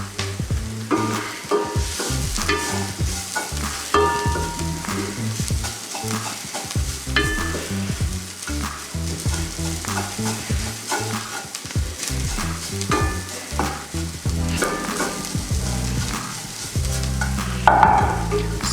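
Curry powder cooks in a pan for a shepherd's pie, with continual stirring scrapes and a sizzling hiss heard up close over prominent background music.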